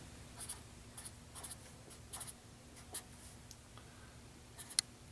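Pencil or pen writing on paper during a third-grade math lesson, faint soft scratchy strokes in short bursts with pauses, quiet background hum and no talking.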